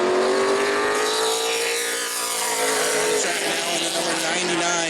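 Super late model race car at full throttle on a qualifying run at New Smyrna, a loud sustained engine roar with shifting pitch as it passes, nearby and continuous throughout, with an announcer's voice faintly under it.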